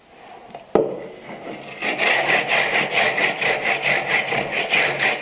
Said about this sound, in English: the goal here is to go as far as I could go using this miter jack saw or tenoning saw and rip it as deep as I can go into the length of the tenon